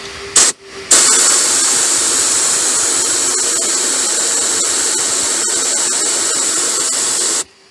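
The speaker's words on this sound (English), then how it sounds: "if I spray a bit of our protecting fluid just in this area" Protective fluid sprays through an airline onto a seam of a 1985 Mercedes 280 TE estate, a loud, close, steady hiss that starts with two short bursts and then holds for about six and a half seconds before cutting off.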